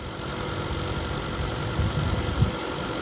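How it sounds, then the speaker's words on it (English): A 2024 Hyundai Elantra Hybrid's 1.6-litre naturally aspirated engine idles with a steady, low hum throughout, with a faint rumble and a couple of slight bumps near the end. "And there we have that hybrid engine."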